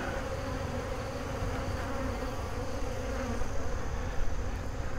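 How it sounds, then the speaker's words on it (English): Somewhat aggressive honey bees swarm and buzz around an open hive during honey extraction, a dense, steady drone of many insects close by with no voices. "these bees are a little more aggressive than we've seen prior"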